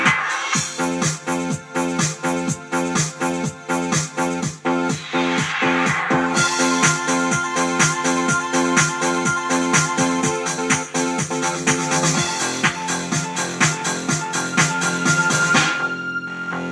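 A steady Electro Pop rhythm pattern on a Casio WK 7600 keyboard plays alone, punchy drum hits in a fast repeating groove with synth chords layered on top, clear and close.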